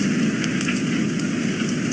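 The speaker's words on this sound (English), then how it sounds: "Hey, why is it only raining right here?" Rain falls in a steady, even hiss with faint pattering, a constant close wash of noise that holds without change for a couple of seconds.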